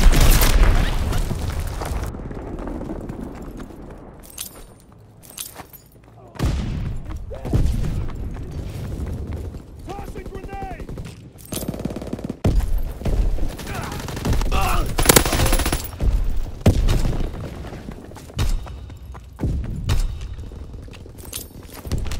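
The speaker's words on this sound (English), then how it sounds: "Enemy bomb incoming." Explosions and gunfire fill a Call of Duty WWII battle: heavy booms, bursts of machine-gun fire and scattered shots, loud and close, with short quieter gaps between the blasts.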